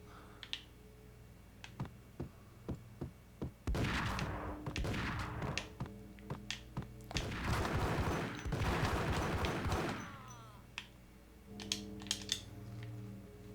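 Rapid gunfire from the video game Max Payne during the Jack Lupino boss fight, dense bursts of shots between sharp isolated clicks and pops, loud and continuous for several seconds.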